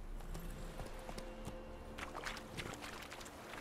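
Hooves of Roach, a horse in The Witcher 3, clopping at a steady gait over a low ambient bed, several footfalls in a row at moderate distance, no talk.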